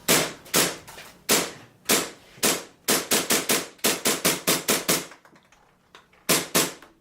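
A KJW KC02 airsoft pistol fed from a PTS EPM magazine fires a string of sharp, close semi-automatic shots, spaced at first and then in quick bursts, before a short pause and two final pops.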